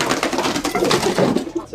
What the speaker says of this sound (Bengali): তো এইখানে আমরা দেখতে পাচ্ছি আপনার দুই জোড়া সিরাজি কবুতর